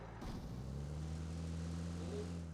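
An airplane in the mobile game Battlegrounds Mobile India drones steadily overhead, a sustained low propeller hum with a stable pitch that holds throughout, moderately loud and without speech.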